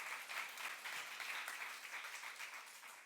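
A congregation claps during a youth-group church sermon, dense and steady for about three seconds, heard from a distance at low volume without speech over it.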